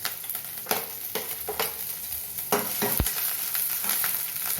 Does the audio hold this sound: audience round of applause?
no